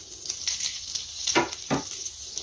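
Chopped onion sizzling in melted butter over a very low flame, a steady bright frying hiss with a few louder crackling bursts, close and alone.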